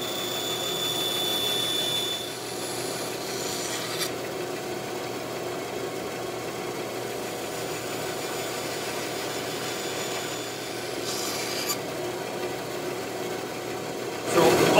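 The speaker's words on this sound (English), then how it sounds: "So I'll go over to the bandsaw and we'll cut this out." A bandsaw cuts through cedar wood, a faint, steady whirring drone running nearly continuously with brief louder bursts of blade noise near the start and end.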